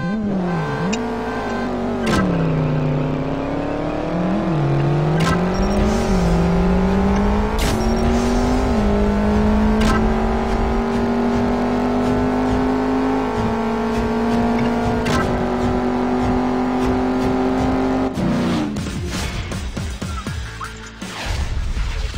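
A race car's engine revs and accelerates in the CSR Racing drag-racing game, loud and continuous, its pitch climbing through several gear shifts with no talk over it.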